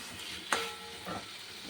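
Water poured into a pan of sautéing pangas fish curry, with a sudden sharp hiss and sizzle burst followed by quieter bubbling frying, close-up and moderately soft.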